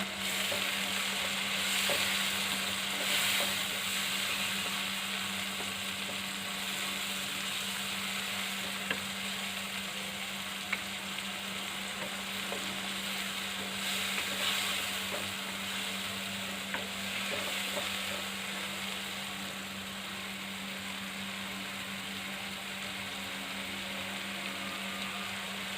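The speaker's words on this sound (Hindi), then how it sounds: "हम इसमें ये हरा मसाला जो हमने पीसा हुआ था इसको भी डालकर भून लेंगे।" Ground green masala paste fries in a pan for vegetarian hari matar keema-style sabzi, a steady close sizzle with a faint constant hum beneath and occasional stirring scrapes, with no voices.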